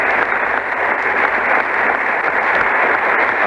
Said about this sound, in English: The roar of the crowd puts up 100.